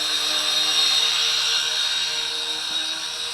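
An HJ818 Pathfinder quadcopter drone flying at full throttle overhead gives a steady, high-pitched buzzing whine of small rotors, continuous and fairly loud throughout, with no talking.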